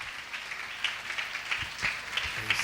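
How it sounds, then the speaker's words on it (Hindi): Congregation at a prayer center in Raipur, Chhattisgarh, claps to welcome a preacher to the pulpit, a steady moderately faint patter of many hands in a reverberant hall. "ताली बजा करके"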